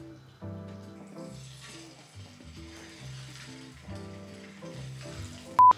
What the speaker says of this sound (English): We're going to fry chicken.